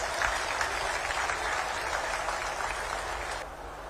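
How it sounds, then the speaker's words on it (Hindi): A crowd at a state-level International Yoga Day event in a stadium applauds a short performance, steady massed clapping that stays even for several seconds and then eases off slightly at the end. "एक बार जोर से इनके अभिनंदन में तालियां"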